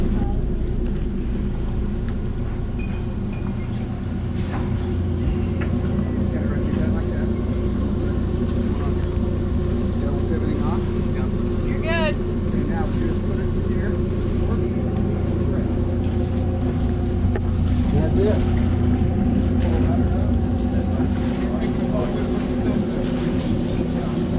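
A motorboat drones steadily on the 10-mile run back to Musket Cove, its engine a continuous loud rumble throughout, with faint voices underneath.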